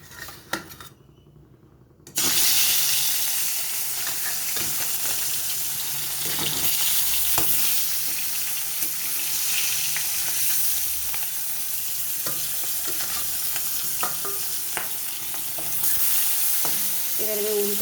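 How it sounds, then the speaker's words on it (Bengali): Fish pieces frying in hot oil in a kadai for a tomato fish dish, a loud steady sizzle that starts abruptly after a quiet moment, with occasional clinks and scrapes of a utensil turning the fish. "এবারে আমি উল্টে পাল্টে মাছগুলোকে খুব ভালো করে ভেজে নেব"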